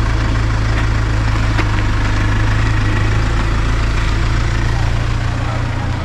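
A vehicle engine idling loudly and close while the vehicle reverses, a constant low rumble and vibration with people talking over it.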